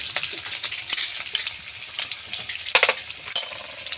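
Ground spices with ginger paste fry in oil for a black pepper cauliflower curry, a bright crackling sizzle close up, with uneven bursts and occasional stirring knocks.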